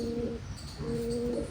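Pigeons cooing inside a loft, two steady low coos a second or so apart over a continuous background hum, close and without talk.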